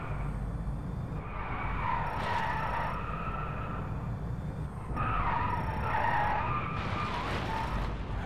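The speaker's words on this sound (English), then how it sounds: "Okay, it's electric. Electric drifting." An electric car drifts and skids in the racing game Driveclub, with a continuous loud tyre screech that swells and fades in long waves over a steady engine-free road roar.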